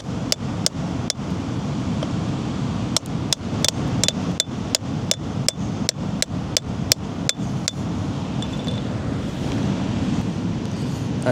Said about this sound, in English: So if I get my chisel in and it splits like I hope it will